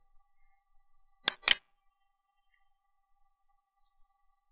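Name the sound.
computer mouse click on a web page link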